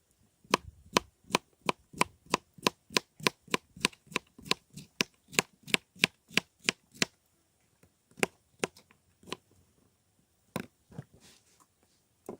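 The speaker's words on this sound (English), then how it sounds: "Start by chopping up fresh, ripe tomatoes, crisp cucumbers, and sweet red onions, cutting them into generous chunks" A knife chops fresh tomatoes, cucumbers and red onions for a salad on a board, a quick run of crisp, evenly spaced cuts followed by a sparser, slower handful of chops with no talk.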